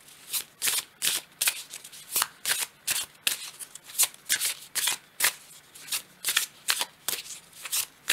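Tarot cards being shuffled in a rapid run of crisp riffles and slaps, about twenty distinct bursts at a steady pace, close and clear with no talk over them.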